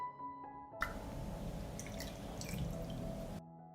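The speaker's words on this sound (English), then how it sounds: "I pour milk into 1 liter of water." Milk is poured into a liter of water, a steady splashing liquid stream for a few seconds, close but fairly quiet, ending abruptly.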